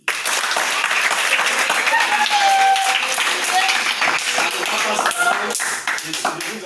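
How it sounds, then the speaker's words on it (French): An audience at a football club ceremony applauds, with dense, sustained clapping from many hands and a few whistles or cheers rising over it. "Acclamez pour lui."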